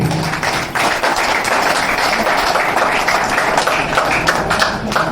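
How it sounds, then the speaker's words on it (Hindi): Sustained audience applause at a swearing-in ceremony for newly elected panchayat officials, a dense, steady wash of many hands clapping close by for the whole stretch, with no talk over it. "एक जोरदार तालियां के लिए भी"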